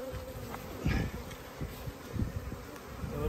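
A steady, close hum of many honey bees buzzing in an opened hive box, dense and continuous with small swells in loudness, no voices.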